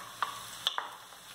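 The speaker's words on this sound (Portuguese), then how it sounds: "Já vou jogar a nossa cebola aqui, ó. Pôr nossa cebolinha para fritar." Onions frying in a pan with a faint steady sizzle and a few sharp clinks of stirring, close by with no talk.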